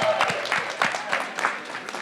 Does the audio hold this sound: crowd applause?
yes